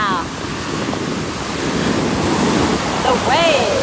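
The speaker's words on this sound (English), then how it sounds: "The waves." Ocean waves wash steadily on a Kanagawa shore with wind buffeting the microphone, a loud continuous roar, while voices exclaim briefly at the end.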